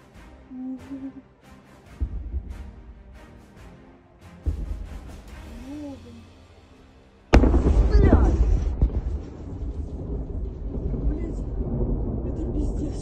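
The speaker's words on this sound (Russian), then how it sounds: "Ну, а я говорила, будет еще взрыв." A sudden loud boom bursts in after quieter thumps, followed by a long rumbling roar as an ammunition depot explodes after a drone attack, with a few voices calling out faintly beforehand.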